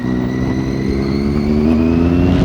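A Triumph Daytona 675 motorcycle accelerates, its engine whine climbing steadily in pitch, close and loud with no talk.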